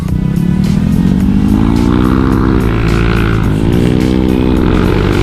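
A 2017 Honda Vario 125 eSP scooter accelerates steadily, its engine note rising smoothly and loudly under wind roar, heard close from the rider's position.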